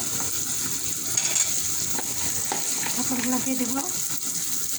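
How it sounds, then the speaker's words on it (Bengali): Pointed gourd frying in a pan with onion and chili, a steady close crackling sizzle with some stirring scrapes, with a few faint voice sounds underneath. "এখন আমি এর মধ্যে পটলগুলো দিয়ে দেবো"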